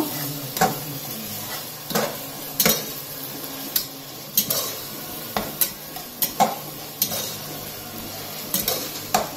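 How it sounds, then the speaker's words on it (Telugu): Ginger garlic paste frying in a pan for chicken pulao, a soft sizzle broken by repeated sharp clanks of a metal spoon stirring against the pan, near and rhythmic, with no talking. "జింజర్ గార్లిక్ పేస్ట్ వేస్తున్నాను"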